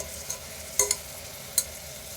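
Mutton curry seasoned with salt and chilli powder is stirred in a pan over a low bubbling sizzle, with a few sharp scrapes and clicks of a spoon, close and short, with no voices.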